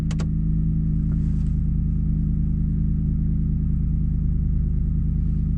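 A Land Rover Discovery 3 with a 4.4 V8 and manual conversion idles with an idle fault, a steady low, loud engine hum with a brief click at the start.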